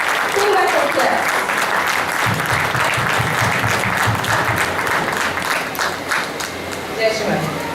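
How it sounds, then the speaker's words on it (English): A large audience at a Navaratri puja medical seminar in Oman breaks into loud, sustained applause, dense clapping from many hands, with voices talking and cheering mixed into the crowd noise. "Can we have a big round of applause and welcome them"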